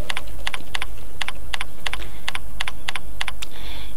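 Keystrokes on a computer keyboard while text is typed in a computer class, coming in quick rhythmic bursts with short pauses, close and clear, with no voices.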